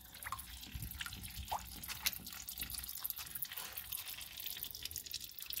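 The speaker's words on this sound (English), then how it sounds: "Get all the water out." Water dripping and trickling out of the cabinet of a rear projection TV during a teardown, a steady patter of faint, irregular drops throughout with no talking.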